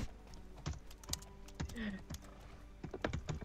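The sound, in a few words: angry typing on a computer keyboard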